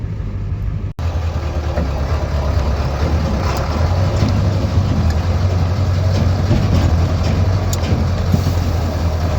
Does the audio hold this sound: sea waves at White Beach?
no